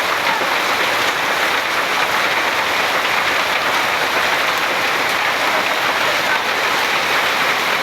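Rain pours steadily onto surfaces nearby, a loud dense continuous hiss with no pauses across the whole stretch.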